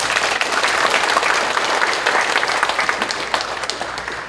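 Full, loud applause of thanks from a congregation at a church ordination thanksgiving service, a dense continuous clapping from many hands that tapers slightly toward the end.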